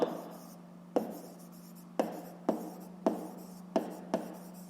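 Pen strokes scratching across paper while working a school maths exercise, in short bursts with several sharp taps or pauses between strokes, close and fairly quiet over a steady low hum.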